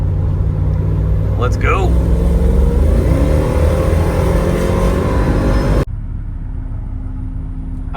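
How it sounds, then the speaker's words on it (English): A Mercedes car with an M113 V8 engine, just fitted with new coil packs, rumbles loudly as it drives off and speeds up, a steady close engine drone with a voice briefly speaking over it. "I'm gonna take it on the highway and get it all nice and warmed up."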